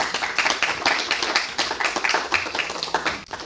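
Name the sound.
applause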